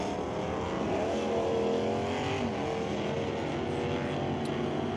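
A 1966 Chevy Impala convertible and a 1970 Plymouth AAR Cuda 340 race down a drag strip at an NHRA open event, engines roaring and climbing in pitch as they rev, steady and moderately distant.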